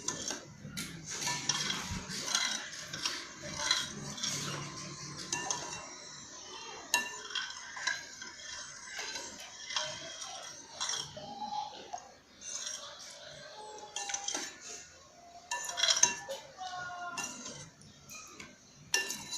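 Spoon stirring a sweet snack mixture in a bowl in a home kitchen, with soft repeated scraping and clinking of utensil against the bowl going on throughout, fairly quiet and close.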